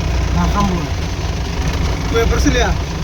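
A tractor's engine idles with a steady, loud low rumble on rain-wet, slippery ground, while someone talks over it close by.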